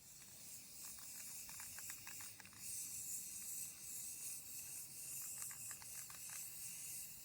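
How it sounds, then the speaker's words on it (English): A spray can hisses paint onto a tray table outdoors, one continuous faint, airy spray with a few brief rattly scratches mixed in and no talking. "There's just a lot of damn paint she's spraying."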